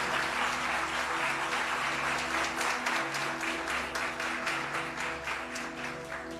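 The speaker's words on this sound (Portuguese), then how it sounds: "Vamos aplaudir Jesus pela vida dos pastores?" A church congregation applauds steadily during a Sunday service, dense sustained clapping close to the microphone with a low instrumental hum underneath.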